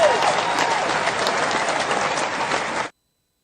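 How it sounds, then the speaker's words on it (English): Studio audience gives a dense, even round of applause that holds steady for about three seconds and then cuts off abruptly into silence. "Give her a round of applause for me."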